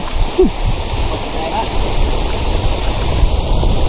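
Heavy rain pours on a flooded farm in a steady, dense wash of water noise, close and loud, with brief bird calls piercing through near the start.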